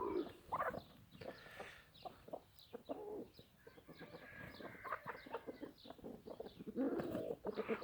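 Backyard chickens with three roosters, scattered clucks and short squawks from several birds at moderate distance, with bursts of louder calls near the start and end and no talking.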